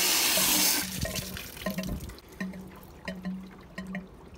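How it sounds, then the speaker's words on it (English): A garden hose sprays into a Hayward AquaRite Turbo salt cell to flush out debris, a loud rushing gush at first that drops to softer splashing and trickling water. "I'm gonna hit this with the hose and try and blow out some of that foreign matter"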